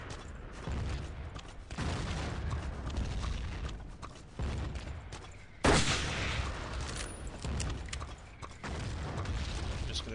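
Battlefield 1942 artillery and gunfire at Caen: repeated heavy booms and bursts of shots at irregular intervals, with one sharper, louder blast partway through and mechanical rattling between them.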